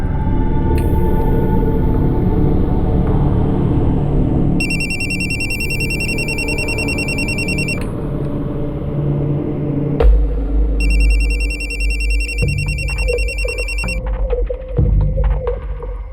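A telephone rings unanswered in two long electronic trilling bursts over a loud low hum and background noise, with a sharp thump between them.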